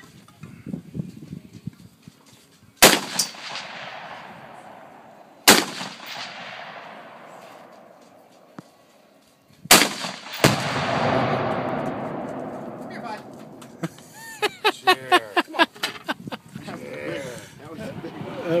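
.223 rifle shots set off binary exploding targets outdoors, giving three sharp, loud blasts several seconds apart with long rumbling decay, followed by a fast string of cracking shots, with people talking in between.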